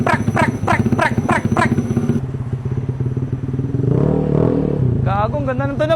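Motorcycle fitted with an open exhaust pipe, revving in sharp repeated bursts up close, then settling into a loaded rumble before another rise; someone talks over the engine throughout.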